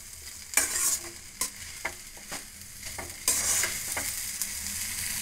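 Garlic frying in a pan for a ladies finger (okra) fry, a steady close sizzle under several sharp stirring scrapes and knocks spaced irregularly, with no voices.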